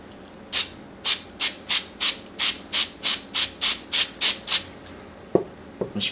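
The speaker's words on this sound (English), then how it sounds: "Spray down the paper towel." A can of REM gun oil sprays onto a paper towel in about a dozen short, even bursts, close and loud, followed by a couple of soft handling clicks.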